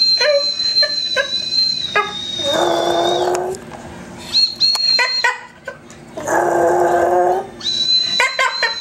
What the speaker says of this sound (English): You still need to howl?